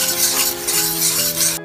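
Finely chopped onions stirred in hot oil in a pan, reused from frying chicken, giving a steady close sizzle with scraping strokes and a brief clatter at the end.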